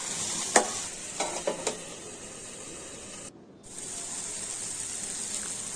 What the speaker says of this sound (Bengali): সরিষার তেল দিয়েও ভালো করে ভেজে নেব।